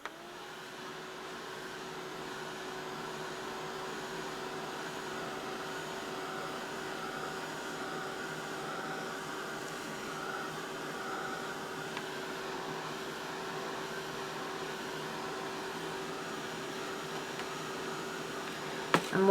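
A heat tool drones steadily while drying distress oxide ink on paper, a constant airy whirring hum that holds at an even level throughout with no voices.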